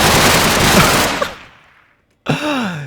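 Rapid burst of machine-gun fire from a modded Minecraft video game, loud and continuous for about a second before fading to silence, then an excited voice talks.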